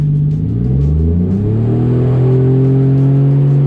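A Nissan 240SX with a swapped 1JZ VVTi engine revs up close and loud, the engine note climbing steadily from a low idle to a higher sustained drone.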